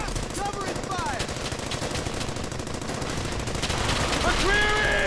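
Rapid machine gun bursts rattle continuously in the World War II shooter Brothers In Arms: Hell's Highway, loud and close, with voices shouting beneath the gunfire.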